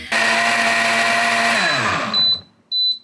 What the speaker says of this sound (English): Do you know just how loud that blender is?